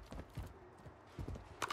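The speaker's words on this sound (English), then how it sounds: "I hear somebody's footsteps." Quick soft footsteps in Call of Duty Warzone, a few uneven steps close by, faint and without talk.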